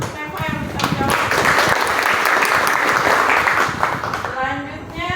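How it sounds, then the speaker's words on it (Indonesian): Students in an Indonesian classroom applaud a classmate for answering a question, a brisk burst of close clapping lasting a few seconds, with a voice speaking at the start and again as it dies down. "beri tepuk tangan untuk Neva yang bisa menjawab"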